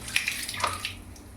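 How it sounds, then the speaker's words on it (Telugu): Green chilli is rinsed under running water, with a brief soft splashing and trickling from a tap in a kitchen, quiet and close, with a few small drip-like spatters. "పచ్చిమిరపకాయ కడుగుతున్నాను."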